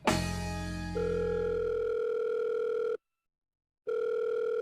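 Ringback tone of an outgoing phone call waiting for an answer, a steady electronic tone that shifts pitch early on, then stops for about a second before resuming, loud and alone without talk.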